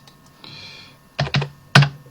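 A few sharp key taps on a computer keyboard in a woodworking CAD session, three or four distinct clicks in quick succession, close and clear over a quiet background.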